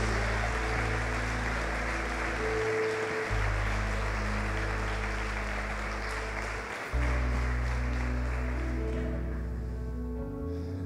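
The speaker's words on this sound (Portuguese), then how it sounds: "Você pode dar uma salva de palmas ao Senhor Jesus?" A church congregation applauds together, a broad wash of clapping that carries over sustained music from the service.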